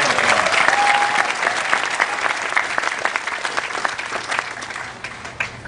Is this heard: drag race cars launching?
no